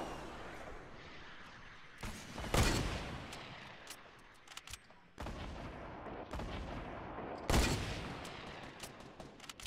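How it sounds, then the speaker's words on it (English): In the Fortnite video game, a grenade launcher fires repeatedly, with two sharp, heavy explosion bursts over a rumbling, crackling background of distant gunfire and blasts that continues throughout. "John Wick's still just spamming grenades."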